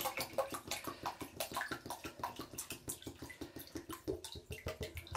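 Water poured into a jug, a continuous close splashing and gurgling stream with rapid rhythmic fluctuation, filling until the jug is full.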